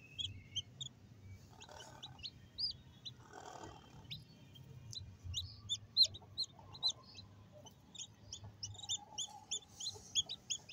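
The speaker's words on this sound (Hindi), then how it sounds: "तो फाइनली हमारी मुर्गी ने चिक्स निकाल लिए हैं।" A hen clucks low and intermittently among her newly hatched chicks, whose high, thin peeps come in quick repeated bursts throughout, all fairly quiet and close with no talk.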